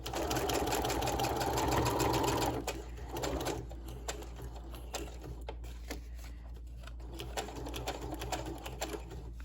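Sewing machine stitching red thread on a craft tag, a steady rapid mechanical whirr running close and loud, then continuing in shorter bursts.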